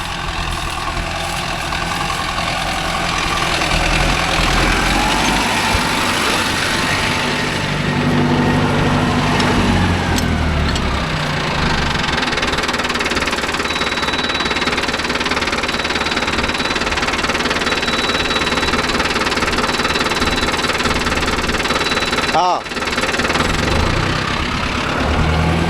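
Mahindra Arjun Novo 605 DI tractor diesel engine runs steadily while pulling a five-point cultivator through a field, a loud, continuous low rumble with some knocking and shifts in load throughout.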